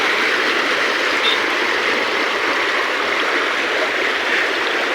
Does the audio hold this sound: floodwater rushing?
yes